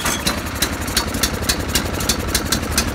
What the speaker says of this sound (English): And the throttle, we'll put her up just a bit here and show you how your snowblower should sit.